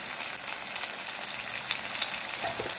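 Chopped tomatoes sauté in a pan for Tamil egg gravy, giving a steady, close sizzle with faint crackles and no talking.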